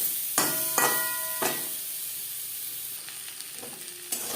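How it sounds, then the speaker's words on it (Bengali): Potatoes fry with salt and turmeric in a pan, a few sharp bursts of sizzling and stirring that fade into a quieter steady hiss, with no talking. "লবণ হলুদ দিয়ে আলু হালকা করে ভেজে নেব"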